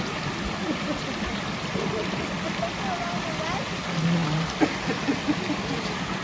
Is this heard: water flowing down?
yes